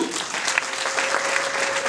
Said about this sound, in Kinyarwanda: Amashyi menshi abiwacu.